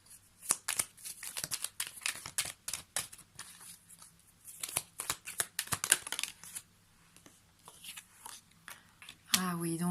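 Tarot cards being shuffled and drawn by hand, a rapid run of soft, papery riffles and flicks in uneven bursts, close and fairly quiet, with a voice faintly present at times.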